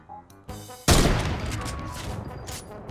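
A sudden loud gunshot burst in Fortnite erupts after a quieter opening of game sounds and music, then rings out into a long decaying boom.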